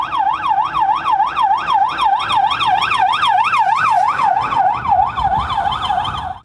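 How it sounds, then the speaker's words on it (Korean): An emergency vehicle's wailing siren passes by, loud and close, its pitch sweeping up and down in a fast, steady cycle for several seconds with no talking. "사이렌 소리가 멀리 있을 때랑 가까이 있을 때랑 소리가 다 다르더라고요"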